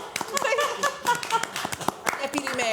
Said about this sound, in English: I would like for you all to stand and applaud yourself